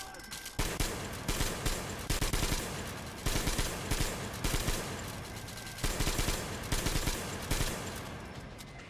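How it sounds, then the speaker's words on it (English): A machine gun in the video game Metro Exodus fires in loud, sustained bursts, several long strings of rapid shots separated by brief gaps. "Well, I'll take the machine gun."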